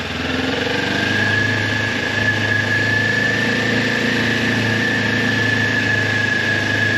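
A motorcycle engine in GTA V held at a steady throttle in first gear, giving a loud, continuous drone with a constant whine above the low rumble. The pitch barely changes and no voice is heard.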